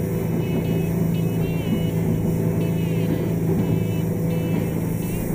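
A Haines Hunter boat with a Yamaha outboard motor running on Lake Taupo, a steady loud engine drone and hull rumble that holds without a break.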